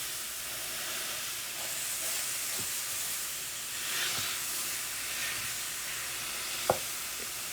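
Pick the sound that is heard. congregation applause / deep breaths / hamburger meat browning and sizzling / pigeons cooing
hamburger meat browning and sizzling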